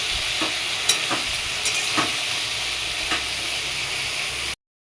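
Vegetables sizzling steadily in a pan with salt, turmeric, cumin powder and a little sugar, with a few sharp stirring scrapes and clicks over the continuous close frying hiss.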